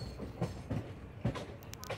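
A passenger train from Chennai Central, hauled by an old WAP electric locomotive, clatters over points while switching from the slow line to the express line near Avadi, with rhythmic wheel clacks under steady rumble.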